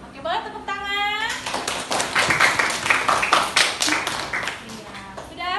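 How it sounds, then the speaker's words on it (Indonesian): A classroom group claps after finishing a presentation at a school teacher-training session, a brisk round of many hands that swells and fades over a few seconds. Voices talk briefly just before and after it. "Oke, boleh tepuk tangan."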